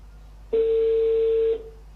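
A single steady telephone tone sounds for about one second, loud and clear against a faint background hum, while a call to Manchester is being dialed.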